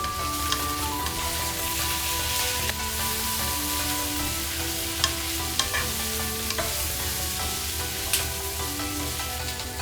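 Sliced bell peppers and spring onion rings stirred in a hot pan with light soy sauce and salt, for vegan Chinese fried potatoes, heard as a continuous loud sizzle with repeated scraping stirs close by, without speech.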